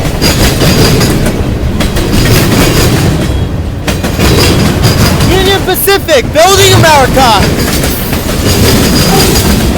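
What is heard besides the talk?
freight train passing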